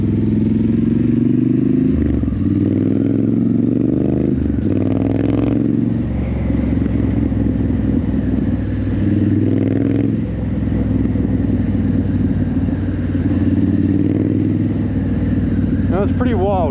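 A Triumph Scrambler 900 motorcycle rides through the night, its engine droning steadily with rises and falls in revs, heard close under wind noise while someone talks over it.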